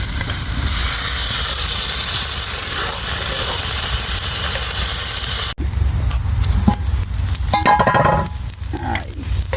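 Onions, ginger and garlic sizzle loudly in a cast iron pan, a steady close frying hiss that cuts off abruptly midway and gives way to quieter crackling with stirring scrapes and clinks.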